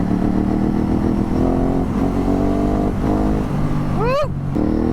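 Ducati Hypermotard 950 RVE exhaust droning under riding speed, then a sharp throttle blip rising and dropping near the end, loud and close with wind noise.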